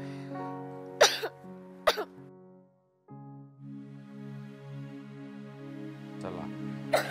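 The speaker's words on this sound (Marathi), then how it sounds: "खूप खोकतेस तू." A child coughs in sharp single bursts, two close together near the start and more near the end, over a held musical tone from a drama soundtrack.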